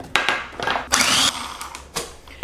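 Food processor chopping onion and garlic, several short whirring pulses with sharp bursts and pauses between them, close and moderately loud, with no talking.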